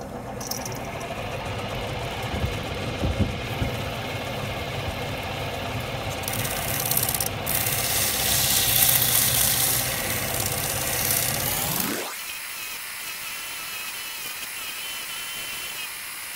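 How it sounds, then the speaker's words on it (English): A 220 grit silicon carbide expandable belt runs with a continuous mid-range whine and rumble, the pitch rising and falling under load, then drops sharply to a lighter, steadier hum. "this is my 220 grit silicon carbide expandable belt polish"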